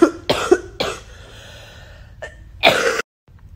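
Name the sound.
coughing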